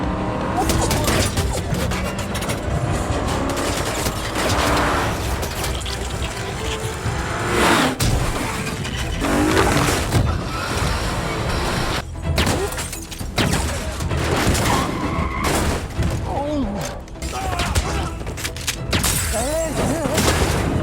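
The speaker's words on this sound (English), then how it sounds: "Instantly, a gunfight erupts on the road." Film gunfight on a road: dense, loud bursts of gunfire with crashes, shattering impacts and thuds, continuous and chaotic, with occasional voices mixed in.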